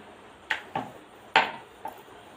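Paratha dough is rolled out on a wooden board at home, giving a few soft, irregular knocks and scrapes, four distinct taps spread over a couple of seconds, fairly quiet and close.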